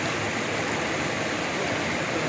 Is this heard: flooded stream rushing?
yes